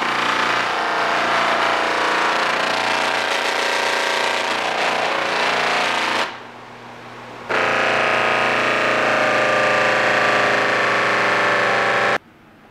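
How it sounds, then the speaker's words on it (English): A brand new polishing wheel spinning with compound against an aluminum piece gives a loud, steady buzzing whir, broken by a brief drop in level midway before the grinding hum resumes, then cutting off near the end. "It's a brand new polishing wheel, so I'm going to put a bit more compound on there."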